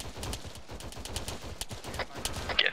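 A mounted gun fires in the Arma video game, letting off a fast stream of sharp, evenly spaced shots in a sustained burst at moderate loudness, with no talking over it.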